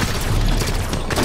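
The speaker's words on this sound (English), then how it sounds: "Oh, shotgun, of course." Shotgun blasts from Halo 5 multiplayer, heavy booming shots with dense low rumble filling a short, loud burst of game combat.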